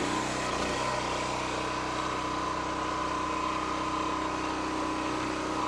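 The engine of a commercial log splitter runs at a steady idle while its hydraulic log lift raises a big round of tulip poplar, a continuous close mechanical drone with a constant hum.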